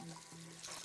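Water from a tap runs over a plastic garden part being rinsed, a short, soft, steady splash close by.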